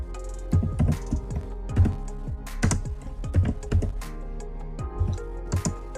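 Typing on a computer keyboard in Turbo C++: rapid, close clicking keystrokes in uneven bursts with brief pauses, continuing throughout with no voices.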